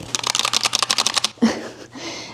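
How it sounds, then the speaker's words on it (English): Rapid clacky keystrokes on a mechanical gaming keyboard, loud and close, in a quick burst of about a dozen presses before a brief pause and a few softer clicks. "I love that when I type, it makes a lot of noise"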